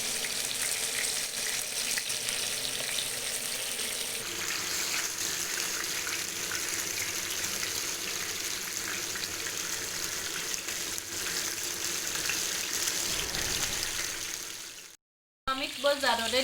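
Meatballs frying in a pan give a steady, bright crackling sizzle that runs continuously at moderate level, briefly cutting out near the end before resuming, with occasional faint voice in the background.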